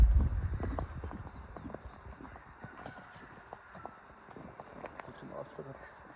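A horse ridden at a slow walk, its hooves clip-clopping in a steady, moderately close rhythm, with a heavy thump at the start and faint voices in the background.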